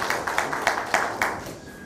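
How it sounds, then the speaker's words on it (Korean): A small press-meeting audience at a county governor's media briefing claps in a few distinct bursts, moderately faint and sparse, fading toward the end. "다시 한번 뜨거운 박수 부탁드리겠습니다."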